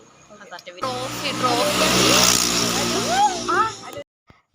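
A car pulls away and drives along a road, its engine and tyre noise building and holding steady and close for a few seconds before cutting off, with voices talking over it.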